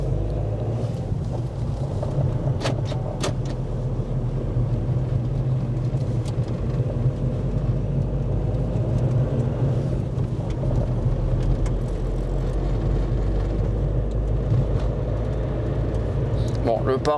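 Engine of a Spanish car idling, a loud, steady low rumble running continuously with a few sharp mechanical ticks and knocks on top.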